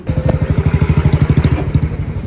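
Several bikes in a group ride run close by with a steady, throbbing engine pulse, a rapid regular chug that holds loud and even throughout without any talk.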